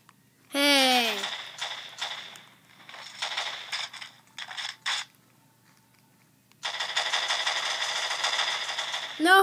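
Gunfire in Call of Duty Modern Warfare 4 during a one-on-one match, starting with a sharp burst, then a scatter of shorter shots and taps, and ending in a sustained loud stretch of rapid fire.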